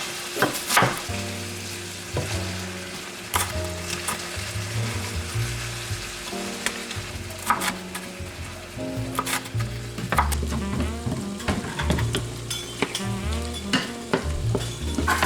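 Ground beef frying in a pan, a continuous close sizzle broken by frequent clattering spatula scrapes and stirs, with low steady tones humming underneath.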